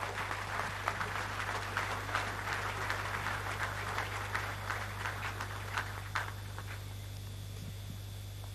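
An audience at a presidential ceremony for the president of the Democratic Republic of Congo claps in steady rhythmic applause for several seconds, heard over a constant low electrical hum.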